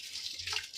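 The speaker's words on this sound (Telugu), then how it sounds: "నానబెట్టుకున్న రైస్ని నేను ఈ వాటర్లో వేస్తున్నాను" Soaked rice is poured into a pot of boiling water for mutton dum biryani, giving a soft, faint watery splash and gush that lasts under a second.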